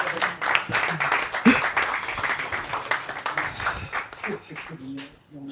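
Audience at a Bitcoin Day event in Gabon applauds, a steady crowd clapping throughout with voices talking and murmuring over it.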